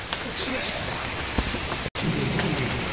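Steady rain falls over a village in a continuous, even hiss, close and fairly loud throughout, with a few sharper drips and patters standing out.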